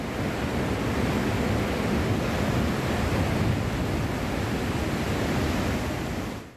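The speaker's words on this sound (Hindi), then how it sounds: "वीडियो में साफ दिखाई दे रहा है कि झरना अपने साथ पानी का जलजला ला रहा है।" Roaring floodwater pouring down a waterfall after a landslide in Pithoragarh, Uttarakhand, a dense, unbroken rushing wash that stays loud and steady throughout before trailing off at the end.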